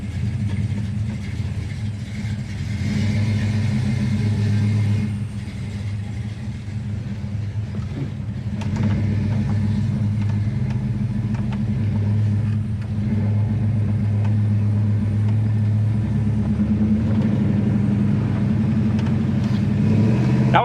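A 1972 Chevrolet Monte Carlo V8 pulls hard on a test drive after a transmission kickdown, a loud, steady low engine roar sustained throughout with a brief dip and rise midway.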